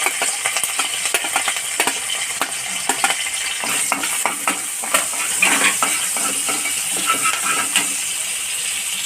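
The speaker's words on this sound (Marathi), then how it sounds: "त्यामध्ये आपण बारीक चिरलेला कांदा घालू।" Finely chopped onion and curry leaves dropped into hot oil in a pan, sizzling and frying steadily with frequent stirring scrapes and clinks of a spoon against the pan, close and fairly loud with no talking.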